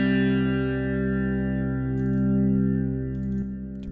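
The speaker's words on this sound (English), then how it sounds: "Throw a little bit of reverb on it here. This is more of a natural guitar sound here." A sustained electric guitar chord rings out with reverb and a shimmering effect, slowly fading near the end.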